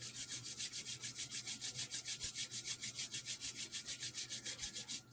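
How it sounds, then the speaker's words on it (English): Palms rub briskly back and forth in a tai chi and chi kung exercise class, a steady rhythmic swishing of about five strokes per second, close and even with a low hum beneath. "Rubbing your hands together."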